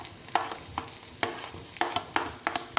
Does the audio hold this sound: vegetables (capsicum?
yes